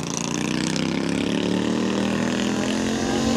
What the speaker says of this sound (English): Is there a motorcycle up here?